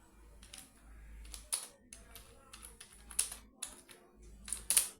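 Typing on a computer keyboard while writing text in MS Word, irregular bursts of nearby key clicks with brief pauses and a few sharper taps, no voices.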